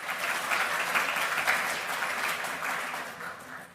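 Warm audience applause at a community cancer caregiver event, dense steady clapping from a sizable crowd that holds for several seconds and tapers slightly at the end.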